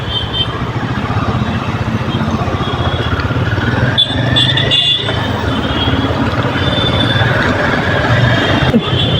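Royal Enfield Himalayan 450 motorcycle riding through city traffic, a steady loud engine drone with road and wind noise continuing throughout, other vehicles mixed in.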